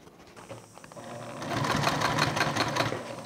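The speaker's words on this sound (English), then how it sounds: "Now I'm top stitching across a lot of rubber foams here, so I have to take it easy" A sewing machine top stitches slowly through thick rubber foam layers of a toiletry bag, starting softly and building into a continuous, close mechanical whir with a rhythmic needle pulse.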